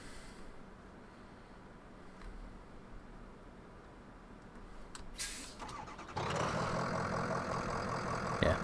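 A snow plow truck engine in a video game cranks briefly and catches, then settles into a steady, fairly loud idle that runs on to the end.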